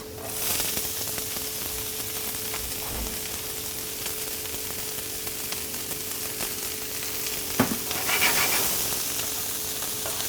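Onions frying in hot oil for caramelizing give a steady, close sizzle with faint crackle that holds evenly throughout, broken by one brief knock near the end.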